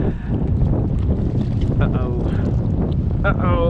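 Strong wind rumbles and buffets across open water on a lake during kayak bass fishing, a steady loud roar with faint tonal squeaks over it.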